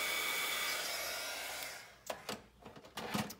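A heat embossing tool blows over a clear page in a mixed media junk journal, making a steady whooshing hum for about two seconds before it shuts off, followed by a few soft handling clicks and rustles.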